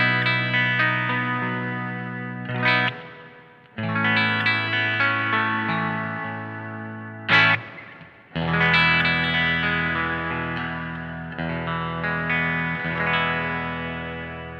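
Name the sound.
guitar through Vahlbruch Pipeline spring reverb pedal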